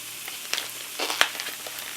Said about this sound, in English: I'm going to throw in some ground beef